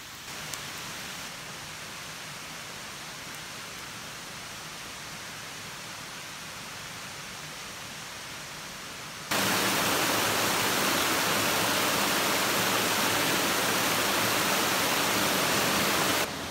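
Allen Creek flowing at a campsite, a steady broadband rush of moving water that becomes noticeably louder and closer partway through, with no voices.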